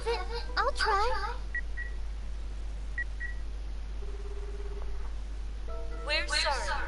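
A phone call is dialed in Akiba's Beat: a few short keypad beeps and a low ringback tone sound faintly between stretches of talking at the start and end.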